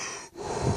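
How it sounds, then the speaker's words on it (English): A person breathes onto a bowl in a short, close exhalation that follows a brief pause, a soft breathy rush of air with no talking. "So I'm going to breathe on the bowl."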